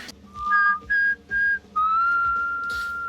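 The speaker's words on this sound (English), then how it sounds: "I can't whistle in these mics because these mics don't pick up that sharp tone as well" A person whistles a short tune up close, four clear clipped notes followed by one long held note, loud and bright over a faint background.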